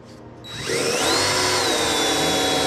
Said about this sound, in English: for now, let's drill the holes. I'm going to drill a hole here and here